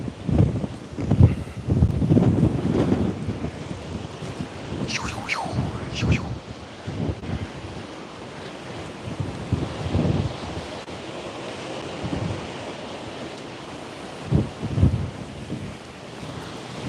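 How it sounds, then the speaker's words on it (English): Strong wind blows outdoors and buffets the microphone in heavy rumbling gusts, with a constant roar beneath. Brief bits of voice rise over it now and then. "There's a lot of wind."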